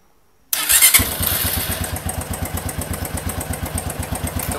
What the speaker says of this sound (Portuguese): vamos dar partida na moto aqui